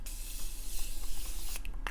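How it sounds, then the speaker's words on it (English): Morphe Continuous Setting Mist sprayed onto a made-up face, a steady soft close hiss lasting nearly two seconds, then a brief click as the spray stops. "I'm just going to take my Morphe Continuous Setting Mist, not a lot"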